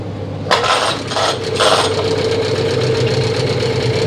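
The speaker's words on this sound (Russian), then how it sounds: "при возврате шнура в ручной стартер, возникает такой скрежет" A harsh scraping rasp as the pull-start cord on a new Chinese 9.8 hp outboard boat motor is yanked and rewinds, grinding as it returns, in a few quick bursts, followed by a steady mechanical drone.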